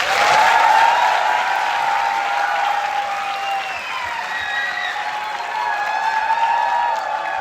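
An audience at a college dramatics club play applauds to open the performance: loud, full crowd clapping, strongest at the start, with thin whistle-like tones drifting over it.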